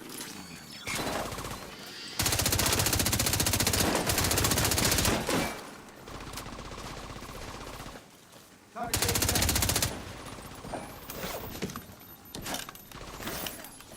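Bursts of automatic gunfire from the video game The Division 2, with two loud sustained volleys and scattered lighter shots between them, a voice faintly present in places.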